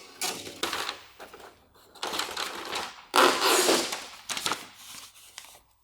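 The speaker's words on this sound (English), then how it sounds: "the printer is at least working" A wheel alignment machine's printer prints in several loud, rattling mechanical bursts with short pauses between, close and alone, like a dot-matrix head chattering across the page.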